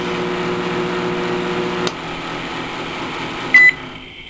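An Electrolux MEF 33 microwave oven with a newly replaced magnetron runs with a steady hum that drops off abruptly partway through. A brief electronic beep follows near the end.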